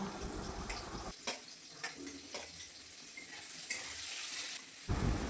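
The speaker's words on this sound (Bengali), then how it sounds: "পেঁয়াজ আর কাঁচা লঙ্কা লাল লাল করে ভেজে নেব।" Chopped onion and slit green chilies fry in hot oil left over from fish, a steady broadband sizzle with a few sharp stirring clicks from a utensil against the pan, close and fairly quiet, no talking.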